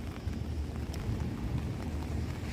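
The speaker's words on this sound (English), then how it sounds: "It's raining, they said it would be raining, it's raining." Steady rain falls on the Coney Island boardwalk in Brooklyn during a thunderstorm warning, a soft, even hiss with faint patter and a low rumbling wash underneath.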